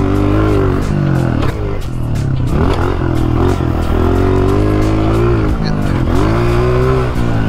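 A 125cc pit bike engine revs loudly and continuously on a dirt track with a small downhill jump, its strained, buzzing drone rising and falling in pitch throughout, with voices talking over it.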